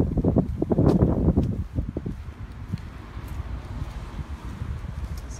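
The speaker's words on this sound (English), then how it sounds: "you can see the wind today blowing a little bit out of the northwest" Steady wind gusting at Cocoa Beach, a strong buffeting rush against the microphone in the first two seconds that eases into a lighter continuous blow.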